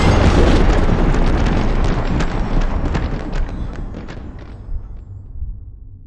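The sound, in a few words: explosion from orbital laser in Minecraft video game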